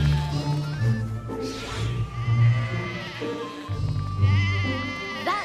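Cartoon sheep bleat repeatedly and close up on a farm, overlapping wavering calls over a light musical score.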